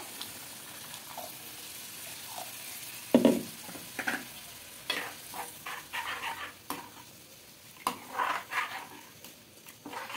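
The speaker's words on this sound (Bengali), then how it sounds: "একটু মশলাটা কষিয়ে নিই" Masala spice paste frying in a pan, with soft sizzling beneath intermittent stirring scrapes and clinks of a spoon against the pan, fairly quiet and close.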